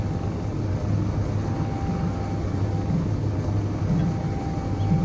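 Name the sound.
jetpack thrust in Space Engineers, video game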